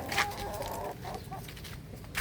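Chickens cluck softly in the background with some brief sharper calls, over a steady outdoor hum.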